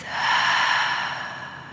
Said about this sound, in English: Taking 3 deep breaths in through your nose and out through your mouth.